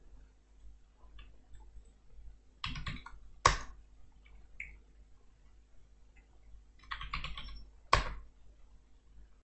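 Keys clatter on a computer keyboard while a command is entered in a Windows command prompt, in two short bursts of quick, near clicks with a couple of louder keystrokes, over a faint steady background hum.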